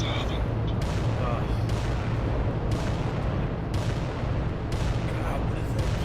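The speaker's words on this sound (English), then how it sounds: "what is that cannon he's shooting?" A cannon in a Warhammer 40K battle game booms repeatedly in heavy, rumbling blasts amid dense ongoing combat noise, with someone talking over the barrage.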